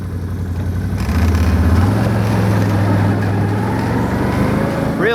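A 2018 Can-Am XT1000R ATV with power steering and a CVT clutch is driven close by. Its engine gives a steady low drone that rises in pitch after the first second and holds a smooth, even hum to the end.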